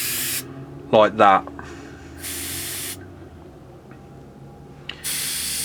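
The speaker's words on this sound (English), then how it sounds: "we can open up the airbrush and we can get smooth spray like so" Three sharp bursts of spray hiss from an Iwata HP-CH airbrush, separated by pauses, with a brief spoken phrase between the first and second bursts.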